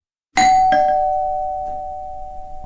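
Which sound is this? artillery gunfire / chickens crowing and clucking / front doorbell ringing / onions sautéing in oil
front doorbell ringing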